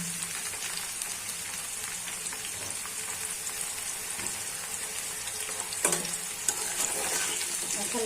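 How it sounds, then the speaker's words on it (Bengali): Eggplant pieces fry in hot oil in a wok, giving a steady, dense sizzle that stays close and constant, with a few brief crackles toward the end. "এখন তেলটা গরম হয়েছে, বেগুনগুলা ছেড়ে দিচ্ছি গরম কড়াই।"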